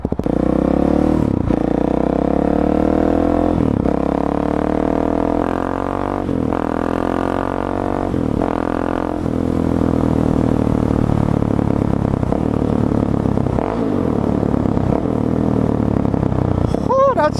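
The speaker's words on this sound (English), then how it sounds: "That sexy exhaust though." A street motorcycle's exhaust burbles and revs through a series of gear changes while riding, loud and close, with each rise in pitch dropping off at the shift and some wind noise throughout.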